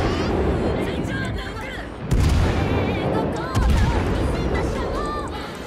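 Warship guns in World of Warships firing from a stealth position at the Yamato, with two heavy booms landing near 2 and 3.5 seconds over a constant battle rumble while voices chatter throughout.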